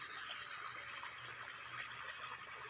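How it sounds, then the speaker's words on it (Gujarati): Irrigation water runs steadily through a field channel on a village farm, a continuous close rushing hiss with no pauses and no voices. "અત્યારે જો આ ધોરિયામાં કમ્પ્લીટ પાણી ચાલુ છે."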